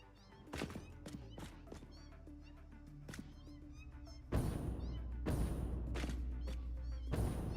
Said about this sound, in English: Is this where I'm hearing all the cats?